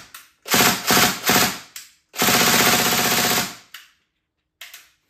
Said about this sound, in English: In the Dryfire mode, you can shoot the gun all day long without using BBs